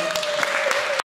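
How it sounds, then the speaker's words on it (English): A short burst of audience clapping for a docent trainer during a bird docent training class, fairly close, with a steady tone running underneath and a sudden cutoff at the end. "let's give her a round of applause"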